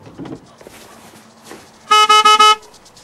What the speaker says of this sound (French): klaxonnez